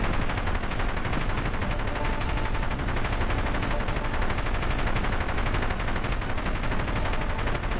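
Helicopter combat video game gunfire: rapid, continuous automatic bursts hammering without pause at high loudness, a dense steady rattle filling the whole stretch.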